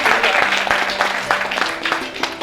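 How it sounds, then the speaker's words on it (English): Audience applause at a Sai devotee gathering, clapping in a hall beneath a sustained tonal hum, with some voices mixed in over a short span. "Big round of applause for Baba and for all of you"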